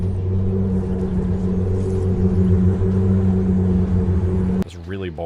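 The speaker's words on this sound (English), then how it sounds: "Porsche 911 GT3 car engine ticking over." A Porsche 911 GT3 engine ticks over in a steady, loud low idle rumble with a constant throb, then cuts off abruptly near the end into a brief burst of different noise.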